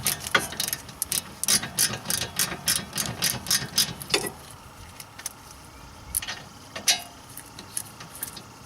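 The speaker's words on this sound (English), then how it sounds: "take your 7mm Allen, loosen both the slider bolts" A 7mm Allen key works loose the brake caliper slider bolts on the rear brakes of a BMW E36 3 Series, producing a run of rapid metallic clicks and clanks. The clicking thins out into a few scattered taps, all close up.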